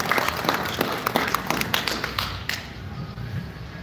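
Applause from an audience at an anime convention's Gunpla model competition awards, a dense burst of many hands clapping that is loud at first and then thins out and fades after about two and a half seconds, with no talking.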